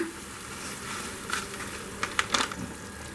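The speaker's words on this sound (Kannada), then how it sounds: "ನೋಡಿ ಹುಣಸೆಹಣ್ಣಿನ ರಸ ಸ್ವಲ್ಪ ಚೆನ್ನಾಗಿ ಕುದಿ ಬಂದಿದೆ" Tamarind juice for puliyogare gojju simmers in a pan with a soft, steady bubbling and sizzle, broken by a few brief clinks and scrapes near the end.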